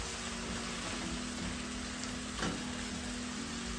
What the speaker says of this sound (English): these are my pre-cooked greens, so I'm going to fry them